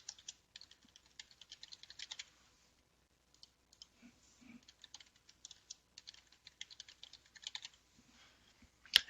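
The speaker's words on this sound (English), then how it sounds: "I'm going to type those in quick." Quick bursts of keystrokes on a computer keyboard, typed at a desk while entering recipients in Outlook; soft, close clicking in uneven runs with short pauses, no talk.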